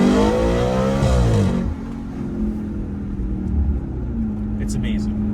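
A 2013 Audi RS5 revs hard in sport mode, engine note climbing and falling loudly up close before settling into a lower rumble, with a voice talking over it.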